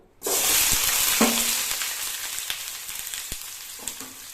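Bitter gourd slices hit a hot pan and fry with a loud, sudden sizzle that settles into continuous crackling, with a few stirring knocks.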